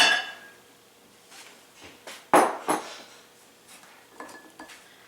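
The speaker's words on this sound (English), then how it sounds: "we just go ahead and mix all of the dry ingredients together" Dry ingredients, including blanched almond flour, being mixed in a bowl for a grain-free chocolate pumpkin pecan cake, heard as a few close clinks and scrapes of a utensil against the bowl between quiet pauses.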